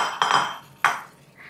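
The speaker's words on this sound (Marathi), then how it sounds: "झाकण ठेवूयात" A metal lid is set on a pot of khardā chicken cooking on an induction cooktop, making two quick clinks about half a second apart and then a faint ring. No one speaks.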